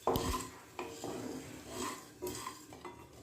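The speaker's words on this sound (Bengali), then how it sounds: "মশলাগুলোকে ভেজে নিচ্ছি" Whole cloves and peppercorns stirred in a kadai over a low flame, a few sharp metallic clinks and scrapes of the spoon against the pan, close and quiet, with no talking.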